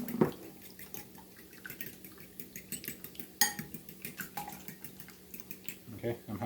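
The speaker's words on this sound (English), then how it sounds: "Alright, so I got my 6 eggs in. We're just going to quickly beat them here." Six eggs are quickly beaten in a bowl for an omelette, making a quiet, fast run of light clinking taps against the bowl, with a few sharper knocks and soft talk in the background.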